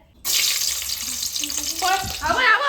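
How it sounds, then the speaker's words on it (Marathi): Oil sizzles in a hot cooking pot, a sudden loud hiss that keeps going steadily while a voice talks over it toward the end. "आपलं टोप गरम झालेला त्याच्यात तेल टाकून घेतलंय"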